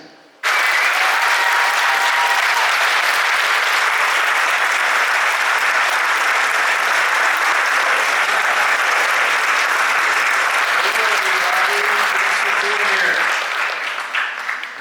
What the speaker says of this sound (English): Yeah, it's a pretty good crowd.